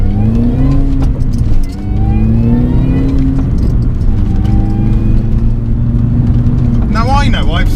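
An R53 Mini Cooper S engine pulls steadily under acceleration while driving, its loud, continuous drone rising in pitch through the gears, with a brief dip near the start and a higher whine toward the end.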